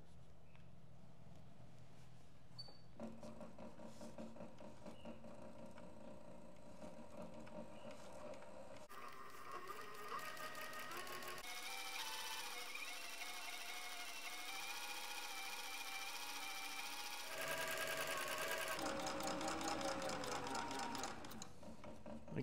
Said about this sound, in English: Sew this shoulder strap together here.